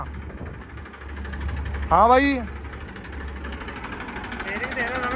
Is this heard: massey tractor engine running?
yes